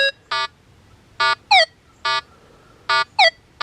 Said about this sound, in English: there's that old loud iron tone I've got set up